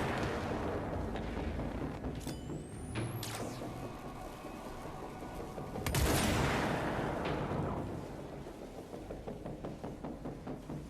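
Video game gunfire from the game Control rings out in a sequence of sharp shots and heavy booming blasts. One loud burst stands out midway, and all of it is heard alone without talk.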